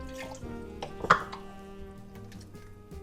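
Water poured into a pot of food on a kitchen stove, a quiet splash peaking briefly in the middle against a low, steady background hum.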